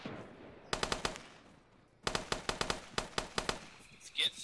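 Bursts of machine gun fire in the Arma military game, in a jungle road firefight: two rapid automatic volleys, the second longer with about ten sharp, loud shots in quick rhythm, separated by a quieter lull.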